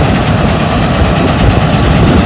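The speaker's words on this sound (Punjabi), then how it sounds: "ਹੁਣ ਚੱਲਦੇ ਆ ਕੰਬਾਈਨ" A combine harvester engine drones steadily at close range in a farm field, a loud, low rumble with constant vibration and no pauses or voices.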